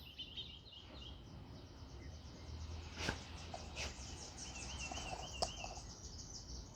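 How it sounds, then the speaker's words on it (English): Outdoor birds calling on a Saturday morning in open nature, with faint scattered chirps and a few sharper calls over a soft, steady outdoor background. "Hear them birds?"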